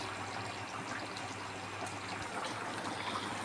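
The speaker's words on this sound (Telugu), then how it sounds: "చేపల కూర ఉడుకుతుంది." Fish curry made with tamarind broth and water simmers in a lidded pot, giving a faint, steady, even hiss of bubbling liquid with no break throughout.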